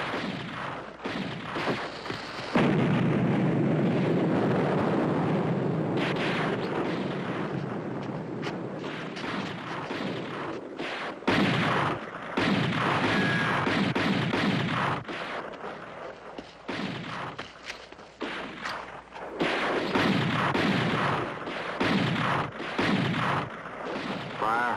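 Cannon fire in a 1970 Disney film scene: a loud booming blast followed by long rumbling echoes and further heavy shots across the scene, with brief shouted commands.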